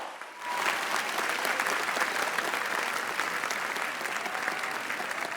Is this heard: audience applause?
yes